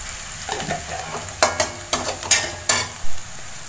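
Spices for aloo mutter masala sauté in hot oil, a steady sizzle broken by repeated sharp scrapes and taps of a spoon against the pan, close and busy with no talking.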